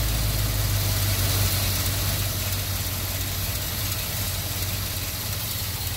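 A Holley-carbureted car engine idles in a steady, continuous rumble with a faint roughness, heard close and alone without talk.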